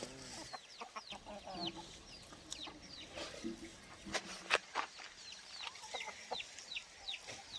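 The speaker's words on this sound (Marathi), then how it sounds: "ही कोंबडा राईट आहे तुमचा" A rooster and hens on a free-range village poultry farm cluck repeatedly in short, soft bursts, with scattered faint calls and light rustling from the flock nearby.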